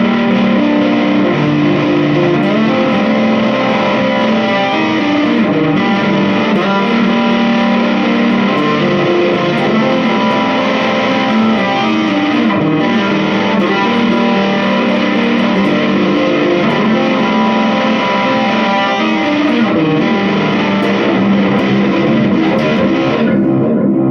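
Electric guitar through a JHS Bender fuzz pedal with reverb and delay added plays continuously for the whole stretch, a thick, saturated, sustained distorted tone at steady loudness with no talking.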